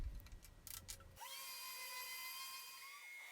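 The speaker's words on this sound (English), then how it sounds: "Then I sand all the edges, all the bullnose edges on the sides." A power sander whines steadily on a wooden meditation bench surface, starting after a brief clatter and holding a loud, even high-pitched hum to the end.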